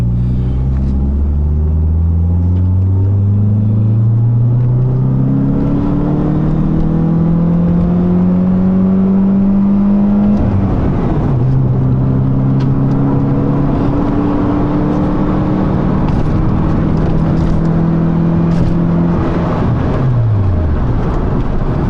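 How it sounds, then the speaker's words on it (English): Fiat Palio 1.6 accelerating hard in gear, heard from inside the car: the engine note climbs steadily in pitch, drops briefly at a gear change around the middle, then climbs again under constant road rumble. "The in-gear acceleration is just fantastic."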